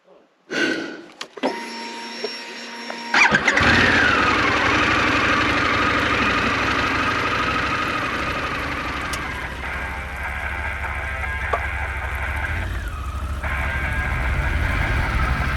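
A Harley-Davidson Pan America motorcycle climbs a wet, muddy rock section off road, its engine revving and labouring steadily for most of the stretch after a few seconds of quiet at the start.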